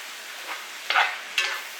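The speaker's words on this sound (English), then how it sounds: "And give this a little stir." A spoon scrapes and stirs through a pan of filling for smoked stuffed peppers, giving two short rasping strokes with quieter shuffling between them, close and alone.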